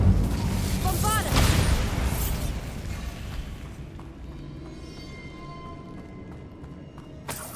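Bombarda spell blast in Hogwarts Legacy, a loud booming burst near the start that rumbles and fades over several seconds, followed by a quieter tail of debris and ambience.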